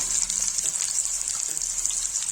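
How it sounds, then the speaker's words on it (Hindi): Chopped onions tipped into hot oil in a pan for rajma curry, giving a steady hissing sizzle at moderate volume that continues evenly without any talking. "सब प्याज डाल"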